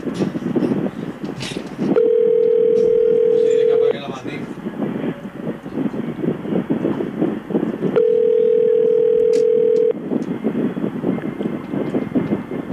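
An unanswered telephone call gives two long, steady ringback tones, each about two seconds, spaced several seconds apart, with people talking loudly between and around them.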